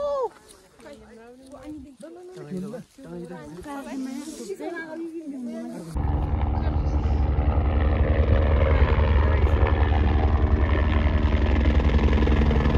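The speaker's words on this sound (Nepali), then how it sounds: "हेलिकप्टर मेरो टाउको माथिबाट उडेर गयो" A person talks at first, then a loud helicopter roars in close overhead on a snowy mountain trek to Gosaikunda, Nepal, its thudding rotor and engine noise drowning everything out.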